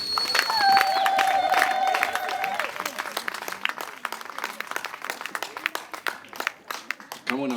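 A church congregation applauds with cheering and high ululation during a sermon introduction, loud at first with a sustained trilling cry, then thinning into scattered claps over several seconds.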